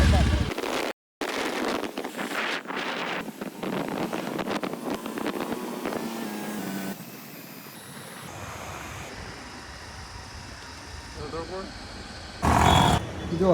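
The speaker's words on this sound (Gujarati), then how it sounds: "બાઇક ચાલુ થઈ ગયું." A motorbike engine runs steadily while being ridden on the road near Dahegam, with a roaring drone and wind rush that drops lower midway, and voices speaking over it at times.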